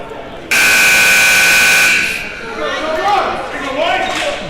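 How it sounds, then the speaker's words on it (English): A loud, sustained electronic goalball game buzzer blares for about a second and a half over crowd noise, then fades into the murmur of an arena. "And the buzzer sounds, and we're ready to go here."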